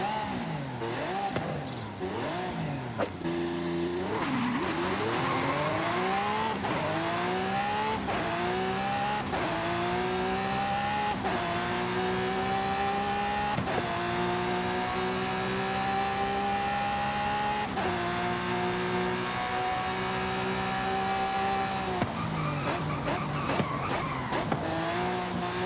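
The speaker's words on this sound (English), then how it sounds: "It's Lamborghini's flagship car, which means it's the car that has sold the most units." Lamborghini flagship supercar engine in the racing video game Forza Horizon 5. It revs loud and continuous through repeated rising gear sweeps, with tire squeal and brief shifts between pulls.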